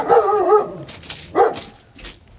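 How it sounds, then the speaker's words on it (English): A chained dog barks nearby, a loud opening bark followed by two shorter yelps, with no voices alongside. "Hey, you can talk to my fucking dog about it if you need to. Dog's chained up."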